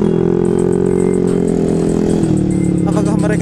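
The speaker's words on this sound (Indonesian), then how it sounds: "Oh, aku melihat banyak motor." Motorcycles gathered for a Sunday morning group ride, their loud engines humming and idling steadily up close, with a clattering rev toward the end.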